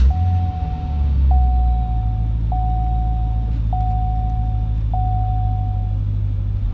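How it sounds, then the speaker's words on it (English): A 2012 Cadillac CTS-V SportWagon's engine fires up with a surge of deep rumble, then settles into a steady, heavy idle while a cabin chime beeps evenly about five times over it. "And to start up, just put your foot on the brake and turn the key to start."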